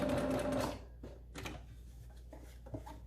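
A sewing machine back-stitches at the edge of a casing on a child's fabric face mask, a loud, brief mechanical whir lasting under a second before dropping to quiet room noise.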